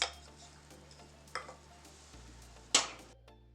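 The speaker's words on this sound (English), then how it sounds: "I'm going to cook the coconut kind of dry" Grated coconut with aromatics cooking dry in a pan on a stove over medium heat, a faint steady sizzle with a few soft stirring scrapes and one sharper clink of the utensil, close and quiet.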